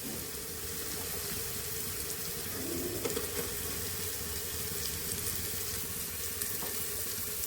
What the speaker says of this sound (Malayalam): അപ്പോൾ നമുക്കിനി ഇതിലോട്ട് സവാള ആഡ് ചെയ്യാം.